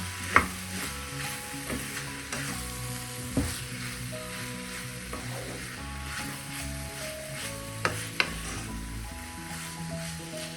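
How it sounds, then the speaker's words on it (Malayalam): Elephant yam being stirred in a pan sizzles gently and steadily, with a few clear knocks of the utensil against the pan and no talk. "നല്ലതുപോലെ നമുക്കൊന്ന് ഇളക്കി കൊടുക്കാം."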